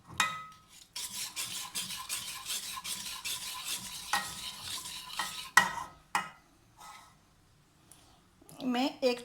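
Cream, 400 grams, stirred into a chilled sugar-free vanilla ice cream mixture in a bowl: steady scraping and swishing strokes up close, pausing and resuming, with a brief utensil clink and a voice near the end.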